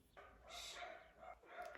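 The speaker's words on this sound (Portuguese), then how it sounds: "esse cachorro latindo, e olha que isso tá me incomodando" A neighbour's dog barks at a moderate distance in a few short bursts, fairly faint against a steady low background hum, with no one speaking.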